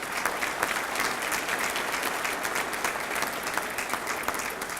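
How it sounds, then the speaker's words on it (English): Sustained applause from a graduation ceremony audience, dense steady clapping from many hands filling the hall at an even level throughout, with a faint murmur of the crowd beneath. "Could we offer these a round of applause?"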